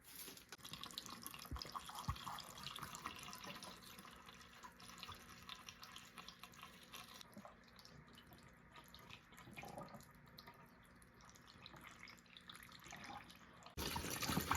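Coolant draining out of a Hayabusa 1300 motorcycle radiator during a flush, a faint steady trickle and splash of liquid running for most of the stretch, with a brief louder burst near the end.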